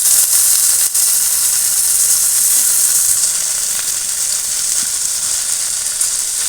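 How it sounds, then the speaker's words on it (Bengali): Chopped onion frying in a little oil in a pan for a Bengali fish fry dish, giving a steady, loud sizzling hiss that holds unbroken from start to finish with no talking. "অল্প একটু তেল দিয়ে দিলাম পেঁয়াজ কুচি"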